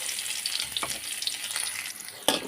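Crushed garlic cloves fry lightly in hot oil, a steady soft sizzle with faint crackles and the scrape of a stirring spoon, ending in a sharper burst near the close.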